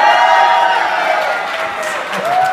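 Dense audience applause with some cheering fills a small live music venue in Liverpool, loud and continuous before easing slightly, with a voice over it.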